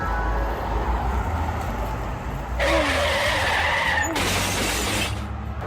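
A car skids next to a bike lane along a roadway and strikes a cyclist, a harsh scraping squeal with a sharp impact-like burst partway through, loud over steady traffic rumble.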